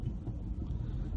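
Steady low road rumble and cabin hum inside a car driving through New York City, constant and unbroken, with no voices.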